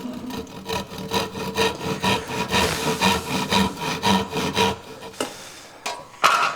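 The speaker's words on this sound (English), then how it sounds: "So I'm going to use a crosscut saw." Strokes of a crosscut saw cutting wood on a bench follow in a quick, regular rhythm, close and fairly loud, and stop after about five seconds, with a couple of brief knocks after.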